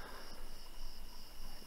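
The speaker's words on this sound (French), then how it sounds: "ce sont les grillons qui ont pris le relais" Crickets chirp in a cornfield at night as a faint, steady high trill over a quiet background hiss, with no voices.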